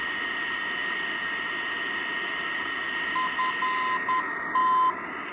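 A faint tone beacon beeps in short dashes and dots, morse-like, over steady radio static and hiss, heard on a Yaesu FRG shortwave receiver tuned near 365.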